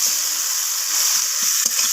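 Chopped onions fry in hot oil with crushed whole garam masala for an egg and potato curry, giving a steady bright sizzle with faint stirring scrapes and light talk now and then.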